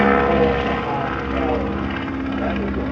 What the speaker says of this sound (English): This is a replica of the Fokker D.VII flown by pioneering Australian aviator Sir Charles Kingsford Smith